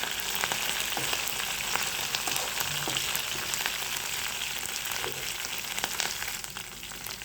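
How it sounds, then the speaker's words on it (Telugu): Curry leaves fry in hot oil with urad dal for upma, giving a steady, dense sizzle with crackling pops and occasional stirring clicks throughout, with no voices. "కరివేపాకు వేసుకొని కొంచెం గోలనివ్వాలి."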